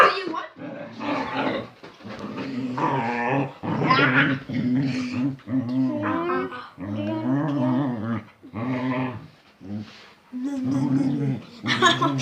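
A strong dog growls, snarls and gives short barks during rough play, a near, continuous run of vocal bursts and whimpers.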